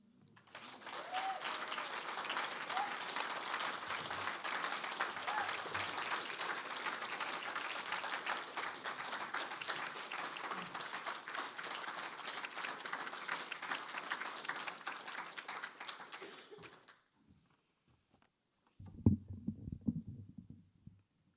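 An audience at a faculty presentation applauds Sarah Schulman in a long, full burst of many hands that holds steady for about seventeen seconds, then stops abruptly, followed by a short low thumping noise.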